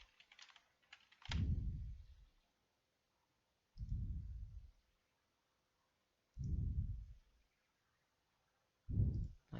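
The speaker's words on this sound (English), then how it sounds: "Let's type this in." Quiet, close computer keyboard typing, heard as four separate short bursts of soft, muffled key presses with silence in between.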